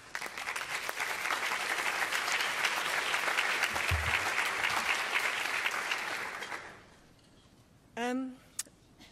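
Conference audience applauds to welcome a speaker at a research talk session, a dense sustained clapping for about six seconds that then fades, followed by a brief voice greeting.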